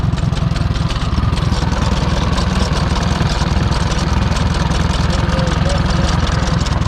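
Old Ford farm tractor engine driving a wheat thresher, a loud, steady, close mechanical roar with continuous rattling vibration and no pauses, while people talk faintly beneath it.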